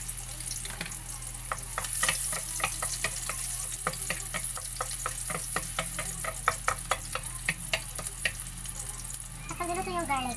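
Garlic and onion sauté in a pan for a Filipino chicken kinamatis dish, giving a steady sizzle dotted with rapid, sharp crackles up close.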